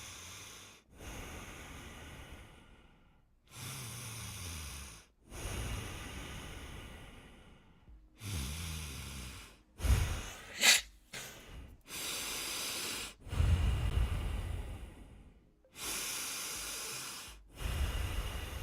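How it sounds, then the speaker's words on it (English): Soft, slow breathing close to the microphone, with hissing inhales and exhales in several long breaths separated by brief silences. "I'm just going to sit here and breathe softly."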